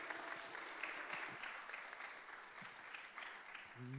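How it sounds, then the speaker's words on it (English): Fairly faint, continuous clapping from a workshop audience on faith and mental health, with a steady patter of hand claps and no clear talk over it. "Let's give her another round of applause,"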